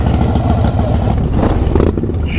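A motorcycle accelerates hard on a ride, its engine roaring loud and close in a steady, dense rising drone that briefly thins toward the end.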